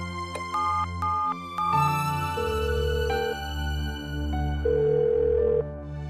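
A telephone call rings out unanswered: a few short electronic tones followed by a repeating melodic ringback tune, moderately loud and clear with no voices over it.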